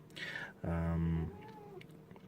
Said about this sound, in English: here's a cat wanting some cuddles